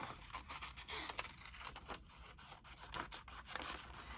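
Scissors snipping around a paper cutout for a junk journal, giving a close, steady run of soft rasping cuts and paper rubbing with no talk over it.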